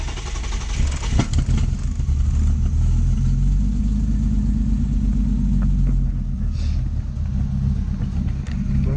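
An engine-swapped car starts with a sharp crank and catch, then settles into a loud, close, rumbling idle that runs steadily but roughly, with an uneven low throb throughout.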